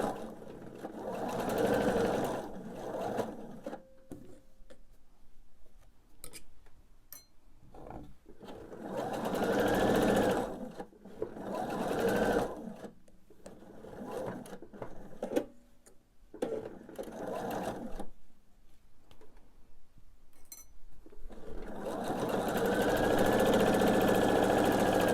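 Sewing machine stitching the last row of a quilt top, running in several long, steady whirring bursts with short stops between, close and alone.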